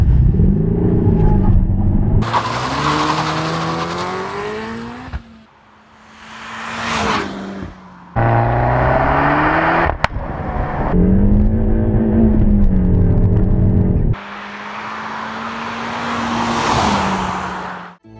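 Peugeot 308 GTI driven hard on a track: loud engine revving through repeated gear pulls, rising and falling pitch with abrupt shifts and short lifts, close and continuous, with no talk.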